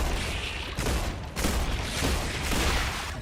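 A shotgun fires in the game StarRupture, two or three heavy, loud blasts with rumbling tails spaced about a second apart.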